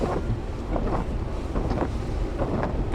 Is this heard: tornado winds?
yes